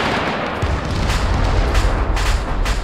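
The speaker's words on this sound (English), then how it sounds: "They're opening fire." Russian forces open fire in a close, loud burst of heavy gunfire and booming shots that rolls on for a few seconds.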